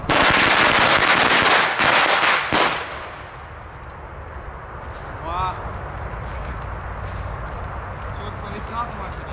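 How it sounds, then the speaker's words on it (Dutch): A ring of about fifty old firecrackers set off outdoors goes off in a dense, loud burst of rapid bangs for a couple of seconds, followed by scattered faint crackles and pops in a quieter outdoor background. "Even een heksenkring gemaakt, jongens, van alle oude rotjes."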